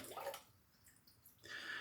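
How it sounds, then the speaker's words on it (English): Hot water squeezed out of a shaving brush before a hot shave, a soft wet splashing burst at the start and again near the end, close and faint with a quiet pause between. "Hot water, squeeze most of it out."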